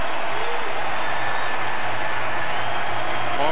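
A baseball crowd at the 2014 All-Star home run derby cheers and applauds a home run, a dense sustained roar of clapping and voices with a commentator talking over it.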